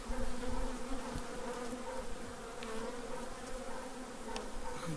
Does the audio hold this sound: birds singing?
no